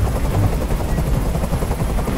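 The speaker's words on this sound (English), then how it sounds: "Tell that helicopter to get out of here." A helicopter hovers nearby in the video game Detroit: Become Human, its rotors beating in a loud, continuous low throb that fills the scene.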